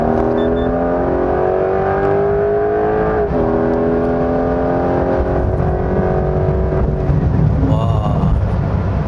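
A Porsche 911 GTS with its exhaust valves open accelerates hard after a downshift, the engine note rising steadily in pitch, loud and close from inside the cabin, with a brief dip at a gear change.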